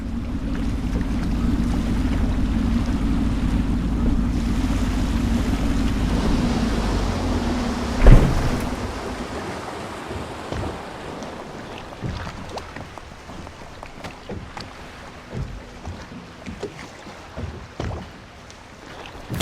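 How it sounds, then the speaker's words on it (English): A steady low engine rumble of a boat moving through water in the video game Dishonored, with sloshing and splashes, one sharp knock partway through, no voices. "I should concentrate on piloting this boat"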